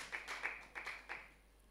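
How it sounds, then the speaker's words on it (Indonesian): A church congregation clapping for Jesus during a service: a short run of about six hand claps, fairly soft and somewhat distant, fading out over a quiet background with no talk. "Tepuk tangan dong buat Tuhan Yesus saudara ya"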